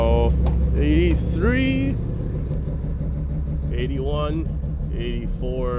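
Mazda RX-7 FD rotary engine idling at about 2,000 RPM, a steady low hum running throughout under a voice reading out numbers.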